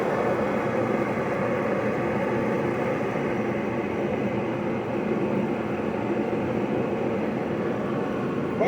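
A Bauer forced-air propane heater running on its low setting gives a steady, loud roaring rumble that holds even from start to finish with no talk over it.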